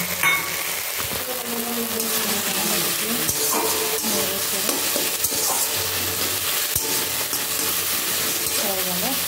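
Fried eggplant and pre-fried neem leaves sizzle in a pan as a spatula stirs and scrapes them, producing a steady close crackle with repeated stirring knocks.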